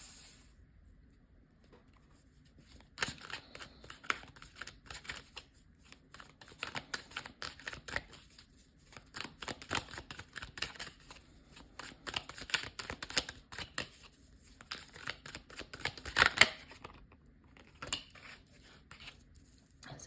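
Tarot cards being shuffled and drawn, giving soft papery riffles, slaps and flicks in irregular bursts, close and fairly quiet, with no talking.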